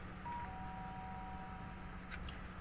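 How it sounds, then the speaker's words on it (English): Doorbell chime in the Danganronpa video game, a clear two-tone ding-dong ringing out over a low background hum, followed by faint soft clicks, quiet and alone. "The sound of the doorbell forced its way into my room."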